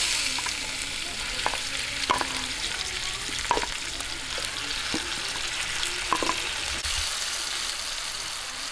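Marinated pork hitting a hot pan for Filipino pork kaldereta in coconut milk, a steady close sizzle of frying with scattered small pops and stirring clinks throughout, no voices.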